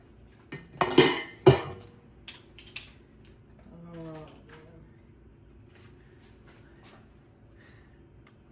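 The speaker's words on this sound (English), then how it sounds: "It's time to take the jars out of the canner." Glass canning jars of mango habanero sauce lifted from a water bath canner, with a few sharp clinks and clatters of glass and metal up close, followed by quieter handling noises, and a voice briefly speaking in between.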